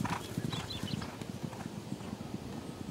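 Horse hooves clip-clop in a steady trotting rhythm, moderately close and continuous, with faint background noise.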